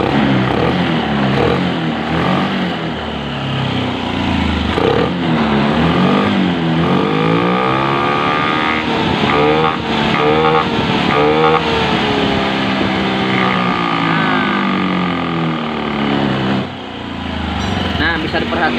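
A motorcycle on its center stand revs hard under throttle, a loud continuous engine roar with rising and falling pitch sweeps that dips briefly near the end, with no one speaking.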